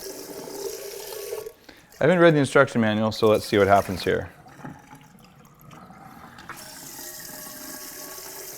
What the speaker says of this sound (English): just run some hot water in this